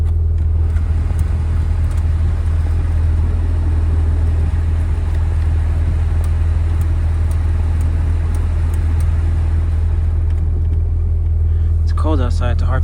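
A car engine idles on a cold day at a Japanese auction, making a steady low rumble that holds unchanged throughout, with a person talking over it.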